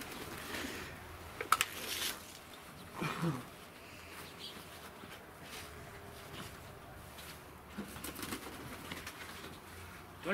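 Pigeons newly delivered in a box to Poteryaevka give soft, scattered coos amid faint rustling and a few sharp knocks, spread thinly over a quiet background.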